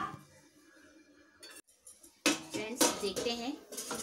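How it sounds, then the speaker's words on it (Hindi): A metal lid clatters onto a cooking pot of cholai saag in a home kitchen, a couple of sharp close clinks and scrapes after a quieter stretch with faint talk in the background. "अब इसे ढक देते हैं"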